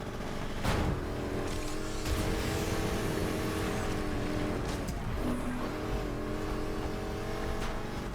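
A car tearing through an off-road race in the video game NFS Heat: a steady, loud engine drone with layered exhaust tones, brief rising revs and small bumps from jumps, constant and close with no voices.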